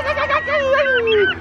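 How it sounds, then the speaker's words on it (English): A single rooster crows once, a drawn-out falling call lasting just over a second, fairly close. "Rooster."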